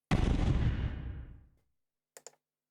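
An explosion effect in a Godot video game booms out loud and close, a deep rumbling blast that fades over about a second and a half, followed by a couple of quick soft clicks.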